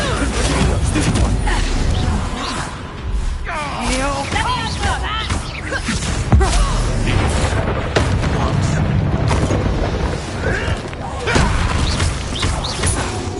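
Bombarda spell blasts in Hogwarts Legacy boom and crash repeatedly amid dense game combat noise, with voices shouting and talking over the explosions.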